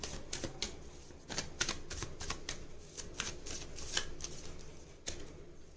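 Tarot cards are shuffled and flicked in a series of crisp, rapid riffling bursts with short pauses between, close to the microphone, with no talking.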